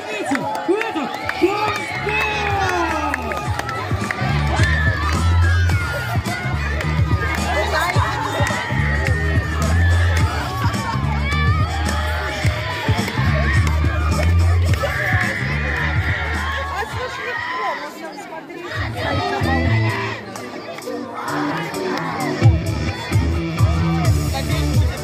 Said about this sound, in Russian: под такие же бурные аплодисменты